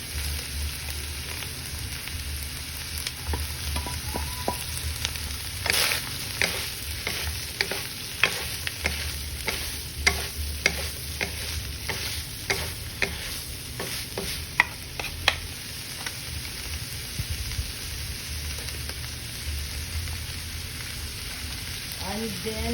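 Ground beef and corn sizzle in a pan under steady, close frying noise. A spatula scrapes and clacks against the pan in irregular strokes throughout.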